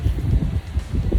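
Low, blustery rumble of hurricane wind buffeting the microphone in surging gusts of around 50 to 60 mph, steady and loud throughout with a brief lull in the middle, during Hurricane Ian.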